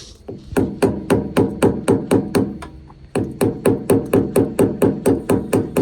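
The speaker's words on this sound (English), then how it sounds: "Maybe take that hammer." Rapid, evenly spaced metallic hammer strikes on a Tesla Model S wheel during a tire change, about three per second, loud and close, with a brief pause midway before the pounding resumes.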